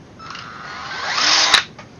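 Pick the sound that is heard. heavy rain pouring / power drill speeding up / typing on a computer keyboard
power drill speeding up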